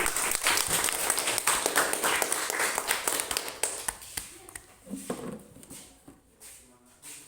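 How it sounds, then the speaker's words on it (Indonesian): Participants in a classroom coaching session applaud a peer: brisk, steady clapping that thins into a few scattered, separate claps near the end, with some talk around it. "Kita buat tepuk tangan buat Jesse."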